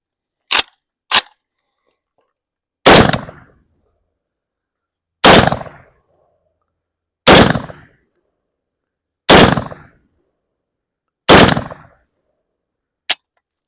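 A SAM7K rifle with an adjustable piston set ten clicks open fires Tula ammunition outdoors, giving eight sharp, loud single shots at irregular intervals of roughly two seconds, with silence between them and no talking.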